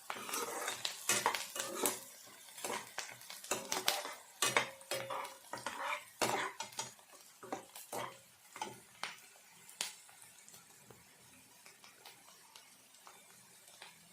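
Something fries in a pan while a utensil stirs it, giving irregular metallic clanks and scrapes that are busy at first and then thin out, over a faint sizzle.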